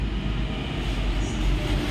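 A metro train rumbles low and steady throughout, a continuous droning roll with no pauses.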